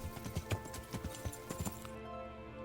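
In Kingdom Come: Deliverance, a horse's hooves clip-clop at a steady walking rhythm on a road, each step distinct, over a low steady game ambience that cuts off near the end.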